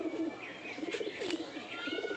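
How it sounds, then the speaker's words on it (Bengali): Racing pigeon cooing close by, a soft repeated coo with faint chirps in a quiet indoor loft, no talk over it. "এই যে কবুতরটা কিন্তু আজকে ডিম দিবে, এখনই ডিম দিবে"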